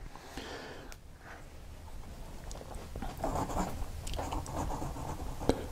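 A fountain pen with an extremely fine accountant nib scratches across Clairefontaine paper in short, faint strokes with small pauses, close up in a quiet room.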